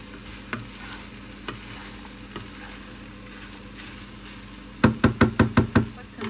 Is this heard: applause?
no